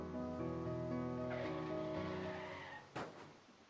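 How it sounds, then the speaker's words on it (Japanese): A car brakes and skids with a short tyre squeal in the video game To the Moon, cutting across a sustained piano melody before a sudden loud crash-like burst near the end. "車のブレーキ音が聞こえたけど大丈夫か？"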